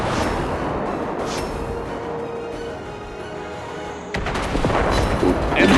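Heavy naval guns of the battleship HMS Rodney, a Nelson-class ship, fire a full broadside in a naval video game: sustained booming gunfire with a louder burst near the end, under faint game voices.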